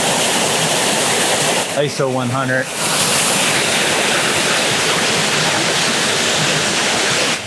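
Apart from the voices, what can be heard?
Kilgore Falls waterfall, Rocks State Park, Maryland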